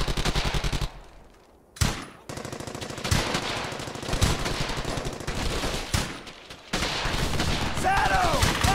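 Sustained automatic weapon fire in the World War II shooter game Brothers in Arms: Hell's Highway, dense rapid bursts of machine-gun rattle nearly continuous, with a brief lull and shouted voices between volleys.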